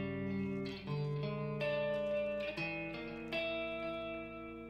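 Electric guitar plays a series of dissonant tritone intervals, each struck and left ringing with a slight effect tail, at moderate volume.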